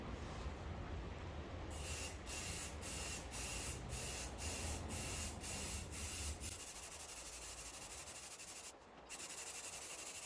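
A paint spray gun hisses steadily as it coats a Sportster motorcycle panel in candy ruby red, with short regular pulses partway through before a smoother, continuous stream.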